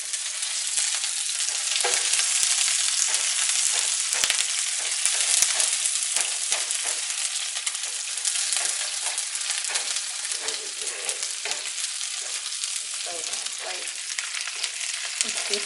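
Shrimp with thyme frying in a pan, a loud, dense, continuous sizzle and crackle that stays close and unbroken throughout.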